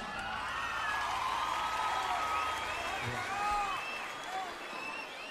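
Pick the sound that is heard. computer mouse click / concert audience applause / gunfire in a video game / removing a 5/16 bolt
concert audience applause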